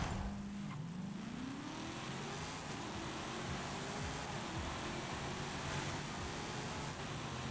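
A 1970 Corvette ZR1 races around a track in Forza Horizon 5, its engine droning steadily and rising in pitch through the gears, with continuous road and wind noise and no voices.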